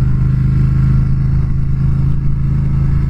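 2019 Triumph Speed Twin motorcycle engine pulling at moderate revs: a loud, steady, deep throb that holds a constant low rumble throughout, heard up close with no voices.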